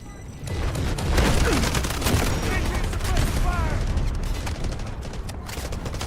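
Dense gunfire and explosions in the mobile shooter game Garena Delta Force, a continuous loud barrage of rapid shots and booms with a faint voice underneath.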